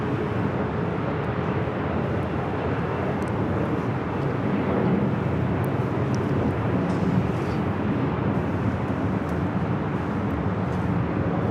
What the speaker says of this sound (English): Lined up, ready to go, heading to Minneapolis. Delta Airlines Flight 2208, a 737-900 ER.